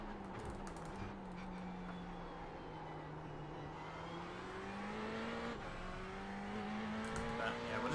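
Ferrari GT3 race car lapping Tsukuba in the sim racing game iRacing: a continuous engine drone that climbs and falls through gear changes, held at a fairly even level across the whole stretch.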